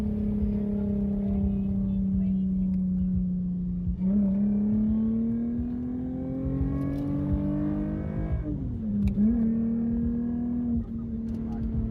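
A Lexus IS250 with an Invidia aftermarket exhaust drones steadily, then revs up twice as it accelerates, the deep rumble rising in pitch.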